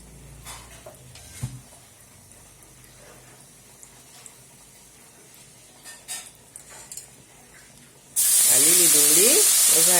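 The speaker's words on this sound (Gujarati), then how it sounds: "હવે વઘારશું લીલી ડુંગળી" Green onion and green garlic hit hot oil with a sudden loud hiss near the end, preceded by quieter kitchen clatter and faint stirring.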